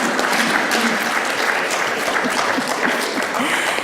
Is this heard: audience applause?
yes